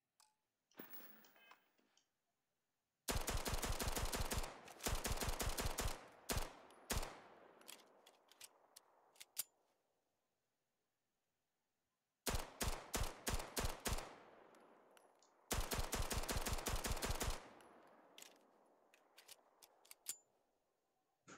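Pistol fire in the video game Starfield with a Call of Duty gun mod: rapid clusters of sharp shots in several sustained bursts separated by pauses, each volley trailing off into a fading echo.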